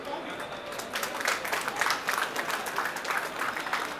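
Audience applause at a community blood donation camp ceremony, a steady wash of clapping from a crowd indoors, fairly even and moderate in level, with some voices mixed in.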